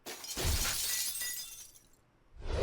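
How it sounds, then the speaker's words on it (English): Window glass shattering in a visual novel game, a loud burst of breaking glass that sprays and tinkles away over about two seconds, followed by another crash at the end. "I go flying, shattering the window"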